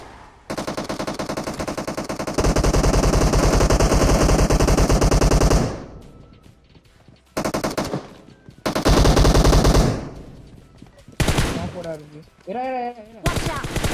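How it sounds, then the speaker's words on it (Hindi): Sustained bursts of automatic gunfire in Battlegrounds Mobile India, loud and close, with gaps between several long volleys, followed by a few shorter bursts. "यहाँ पे भाई कुछ फायरिंग का आवाज आता है"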